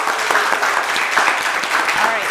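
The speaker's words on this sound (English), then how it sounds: "our lovely bartender, Christine, if we can give her a round of applause over there." An audience at an inn gives a round of applause for the bartender, a short burst of many hands clapping close by, with talk running over the clapping.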